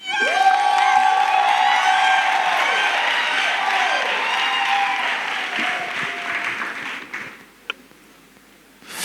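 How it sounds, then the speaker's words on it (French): A church congregation breaks into sustained applause and cheering, with whoops and shouts riding over dense clapping for several seconds before it fades out near the end. "acclamez vous-même."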